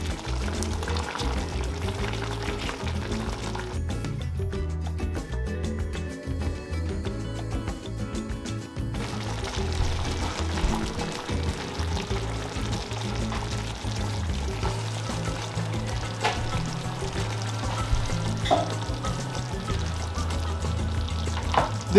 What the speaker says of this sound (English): What I'm gonna do now is just to add the salmon fillet in the pot here.